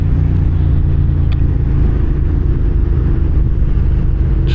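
A 2006 Suzuki SV650S motorcycle engine drones steadily while riding, a loud, constant low rumble with wind noise from the rider's point of view, holding an even note throughout.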